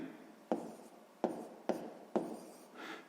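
A pen scratches across paper while a math exercise is written out, in close, quiet strokes with sharp starts about every half second to second.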